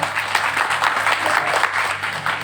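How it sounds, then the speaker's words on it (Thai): Steady applause from a seated seminar audience fills the room, dense and continuous clapping at moderate loudness with no break. "ปรบมือให้กับผู้ชักชวนท่านทุกคนนะครับ"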